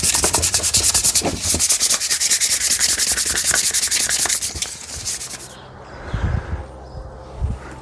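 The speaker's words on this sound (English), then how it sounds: "Now we're just going to sand it all." A plastic hockey mask for a Jason costume being sanded by hand, with rapid, steady, close back-and-forth rasping strokes for several seconds that then stop, leaving a few soft handling knocks.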